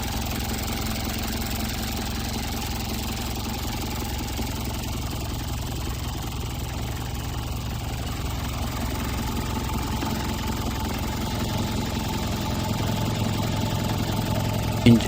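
A Japanese car engine idling after running for a while, warmed up to normal temperature: a steady, even mechanical hum with a faint regular knock, close and unbroken with no talking.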